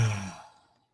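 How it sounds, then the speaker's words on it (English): A single breathy exhale from a person's yawn, fading away within a second, close and fairly soft, sounding much like a sigh. "No, it was a yawn."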